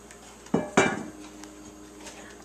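Two quick metallic knocks of a utensil against a bowl or muffin tin as carrot cake muffin batter is mixed and ladled into a greased muffin tin, close and crisp, followed by a faint scrape with no talking.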